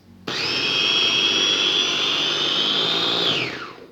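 A food processor chopping carrots whirs at high speed, starting abruptly, holding a loud, steady high whine for a few seconds, then winding down.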